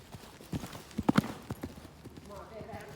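Horse hooves clip-clop on the ground at a ridden working pace, a handful of distinct footfalls with a couple of sharp close strikes in the middle, then the rhythm fades into quieter background.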